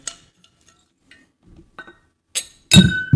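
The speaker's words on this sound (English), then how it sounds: "So I'm going to pour myself a drink here, and if you all wouldn't mind raising a glass with me." Glass clinking while a drink is poured: faint scattered clicks and taps, then a few sharper glassy clinks and a loud rattling clink at the end, close to the microphone, with no talk.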